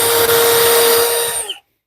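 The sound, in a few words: power drill driving screws into workbench stretchers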